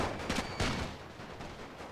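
Rifle volleys from infantry in the First World War strategy game The Great War at Gallipoli, two or three sharp cracks in quick succession early on, then a rolling, distant crackle of fire fading out.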